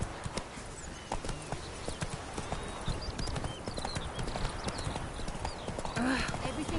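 The horse Roach gallops in The Witcher 3 with a rapid, continuous clip-clop of hooves, sharp and close, under bits of talk and ambient game sound.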